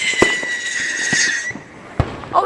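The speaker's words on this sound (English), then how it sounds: "Fireworks on the other side of the tree over there." Fireworks burst on the far side of a tree at a Fourth of July pond gathering, sharp cracks and a whistling screamer with crackle, sounding close and loud in the open air.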